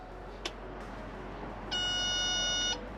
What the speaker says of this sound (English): There's our beeping he's talking about.